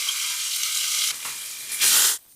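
Meat browns in a pan with olive oil, garlic and ginger, a loud bright sizzle that swells and dips as it is stirred, then drops off abruptly.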